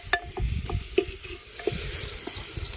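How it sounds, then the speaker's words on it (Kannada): Onion and tomatoes frying in oil in a pan over a wood-fired stove, with a steady close sizzle broken by several sharp stirring scrapes and clicks. "ಈಗ ಟೊಮೊಟೊ ಹಣ್ಣನ್ನು ಹಾಕ್ತಾಯಿದ್ದೀನಿ. ಇದೆಲ್ಲ ಚೆನ್ನಾಗಿ ಬಾಡಬೇಕು ಎಣ್ಣೆಗೆ."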